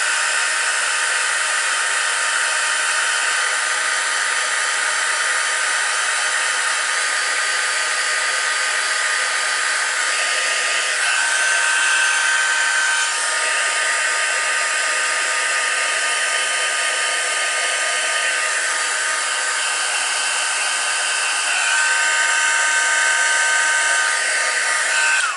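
A heat tool blows a constant loud, steady whoosh while heat setting embossing powder on cards, running without pause throughout with no voices.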